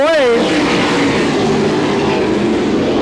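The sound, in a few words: sprint race cars racing at Butler Motor Speedway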